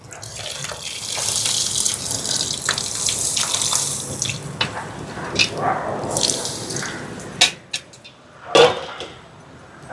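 Soaked tamarind squeezed and added to a simmering vegetable curry gives wet sloshing and trickling close by, ending in a few sharper splashes and drips.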